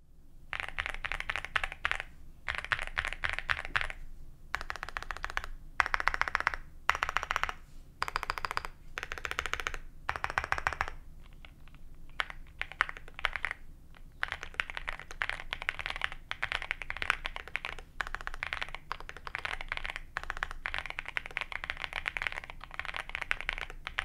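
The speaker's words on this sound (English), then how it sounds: "that was the typing test of the V68" Typing on a CIDOO V68 mechanical keyboard, close and clear: rapid bursts of crisp keystrokes in rhythmic runs separated by brief pauses, with no voices over it.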